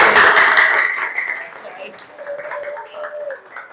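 Students clap in a classroom for a top-scoring classmate, with a burst of loud clapping fading over the first second and a half, followed by scattered voices and lighter sounds.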